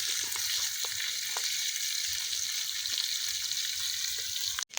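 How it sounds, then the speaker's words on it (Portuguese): Corimbatá fish frying over an outdoor campfire gives a steady, close, dense sizzle with soft crackles and pops, running unbroken until a brief cut at the very end. "Tá assando rapidinho, hein? Quer dizer, fritando, né?"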